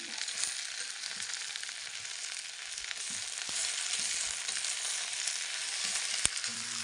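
Vegetables fry in a pan with a steady, close sizzle that holds evenly throughout, broken by a few soft stirring knocks and one sharp tap near the end, in a Uttarakhand hill village kitchen.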